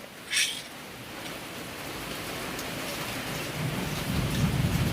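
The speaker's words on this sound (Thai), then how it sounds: "ตอนนี้ที่บ้านฝนก็ตกนะเพื่อนๆ ตอนเนี้ยเสียงมันดังมาก เสียงฝน" Heavy rain pours steadily outside a house, a dense, continuous hiss that swells slightly toward the end, with a brief brighter splash near the start.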